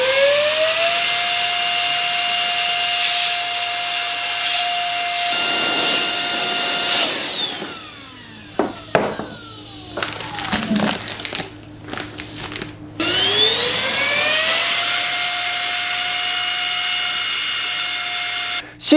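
A cordless air duster gun running on a DeWalt-compatible battery gives a steady high-pitched whine of blowing air, cuts off into scattered clicks and rustles, then the loud whine starts up again.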